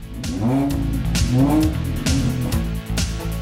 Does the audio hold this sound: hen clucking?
no